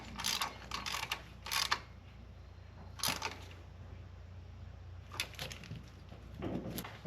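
Small mechanical clicks of a ratchet come in short bursts with pauses between while bolts are tightened on a Hammerhead GTS 150 scooter engine, faint and close, with no talking.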